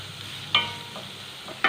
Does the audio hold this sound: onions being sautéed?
yes